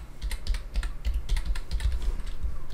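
Steady run of computer keyboard typing during work in Autodesk Subassembly Composer, dense irregular key clicks close to the mic with no voices.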